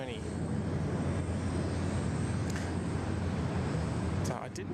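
Jet airliner taxiing onto the freight apron at Sydney Airport, a steady broadband engine rumble and whine holding level throughout, with a few brief higher chirps near the end.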